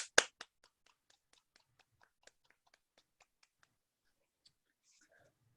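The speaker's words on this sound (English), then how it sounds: "Extra round of applause for Art." Faint, sparse clapping for a speaker at an online Toastmasters meeting: a couple of louder claps open it, then a single pair of hands keeps up a slow, even rhythm before fading out.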